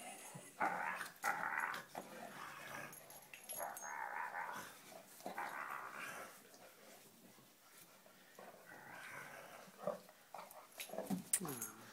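A dog growls softly and whimpers at close range, with low rumbling stretches and higher whines, while someone speaks nearby in between.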